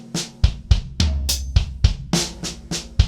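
Drum kit playing a 24-note fill built on a six-stroke roll in sixteenth-note triplets, fitted into 4/4 time: quick, crisp strokes with punchy kick accents roughly every third of a second, played alone over about three seconds.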